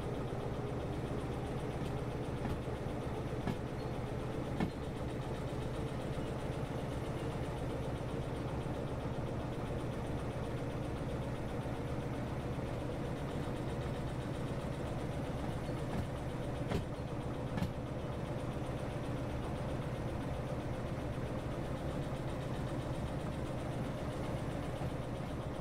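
A small locomotive engine runs in the Derail Valley train game, producing a continuous mid-to-low engine hum and rumble, steady and fairly loud throughout, with a couple of faint clanks and no talk over it.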